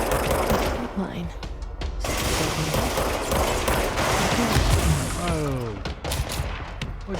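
Gunfire is aimed at the player in the video game Control. A dense rattling burst of shots sits under game effects and a sharp exclamation from a player's voice.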